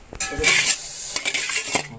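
American eel frying in a pan on a gas stove, with sizzling, scraping stirring and clinks of a utensil against the pan, loud and close in short uneven bursts.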